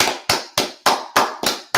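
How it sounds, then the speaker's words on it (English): Seven sharp hand claps in a steady, even rhythm, loud and close with no voices. "clap it up."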